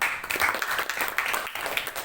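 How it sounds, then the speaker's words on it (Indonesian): An audience gives a short burst of applause in a hall, a dense patter of many hands clapping at moderate volume for about two seconds. "Tepuk tangan."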